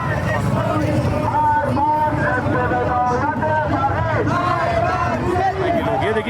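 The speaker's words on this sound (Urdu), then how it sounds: "یہ نعرے لگانے کے لیے لوگ باہر آئے ہیں، مار بار اسرائیل، مار بار امریکہ" Dense crowd of Iranians celebrating in the streets, many voices chanting and shouting together in a continuous loud roar with rising and falling tones.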